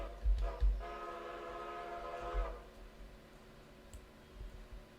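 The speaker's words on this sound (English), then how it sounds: "Just blow the whistle a lot." A locomotive whistle in the railroad game Railroader sounds in one sustained, loud harmonic blast lasting about a second and a half, preceded by short low thumps, with quieter rumbling after it.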